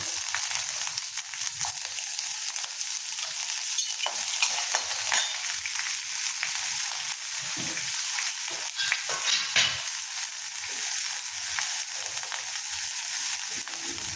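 Chopped onions frying in oil with spluttered mustard seeds, torn dried chillies and curry leaves, giving a steady, close, dense sizzle with occasional stirring scrapes throughout, and no talking.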